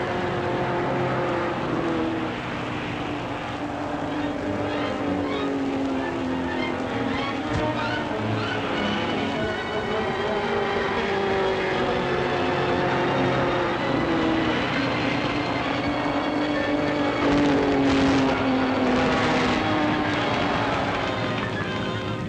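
Racing cars at the Italian Grand Prix, with Auto Union and Alfa Romeo machines on the circuit, make continuous loud engine roar with rising and falling whines as cars pass, overlaid by a narrator's voice and crowd-like noise.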